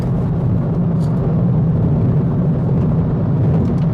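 Engine of a 2019 Hyundai Elantra GT N Line driven in sport mode with manual gear shifts, a steady loud low rumble with road noise that stays constant throughout, no talk.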